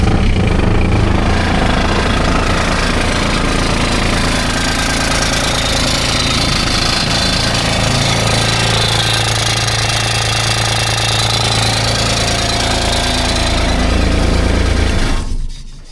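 Kubota RTV X900 utility vehicle's three-cylinder diesel engine running close by, a loud continuous knocking clatter that holds steady for the whole stretch before cutting off abruptly at the end.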